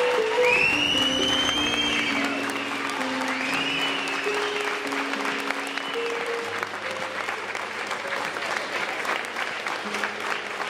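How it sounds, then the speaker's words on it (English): Wedding guests clapping during a best man speech, sustained applause with warm musical tones and some voices mixed underneath, steady throughout. "let's give Anthony a nice round of applause."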